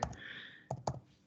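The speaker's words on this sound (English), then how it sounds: "I'm just typing up some time hacks here." Brief clicks of typing on a computer keyboard, a few close taps in quick succession, quiet and heard alone without talk.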